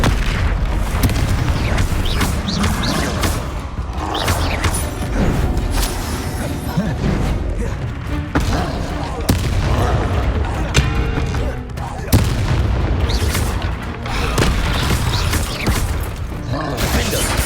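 Repeated Confringo fire-spell explosions in Hogwarts Legacy, loud booms and blasts amid clattering combat effects over game music, with a voice speaking at times.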